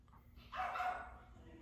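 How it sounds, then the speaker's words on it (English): A pet dog gives one short, faint bark in a quiet room, brief and somewhat distant. "That's my dog."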